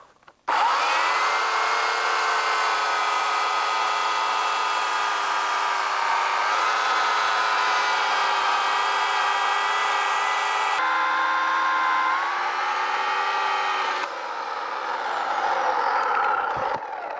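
A chainsaw cross-cuts wood on a lathe-turning job, its engine held at steady high revs for about sixteen seconds with slight pitch shifts as the chain bites, loud and close with no talk.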